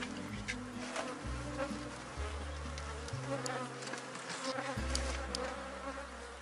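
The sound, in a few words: honeybees buzzing as the hive is closed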